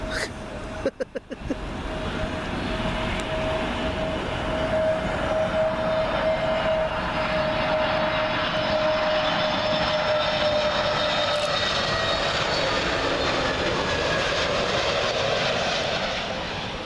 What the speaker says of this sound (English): Up next, Air Malta A320neo arriving in from, oh, guess where?